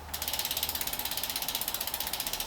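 A worn bicycle rear wheel with a cup-and-cone hub spins freely, giving a rapid, even mechanical ticking and rattling that runs close and steady throughout.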